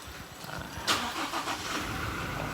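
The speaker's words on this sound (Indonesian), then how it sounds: "Suaranya khas Innova diesel." A Toyota Kijang Innova 2.4 G diesel automatic engine cranks and catches around the one-second mark, then settles into a steady, gruff diesel idle close by.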